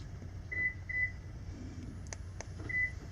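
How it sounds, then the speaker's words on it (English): A few faint electronic chirps from a third-generation Toyota Prius locking and unlocking via key fob, spaced apart against a quiet background hum. "You can hear the Prius locking and unlocking."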